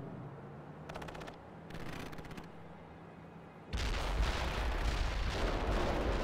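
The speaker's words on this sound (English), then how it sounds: "Artillery fire." An artillery barrage in the video game World in Conflict begins after short bursts of radio-like static, then erupts into a loud, continuous rumble of overlapping explosions and firing.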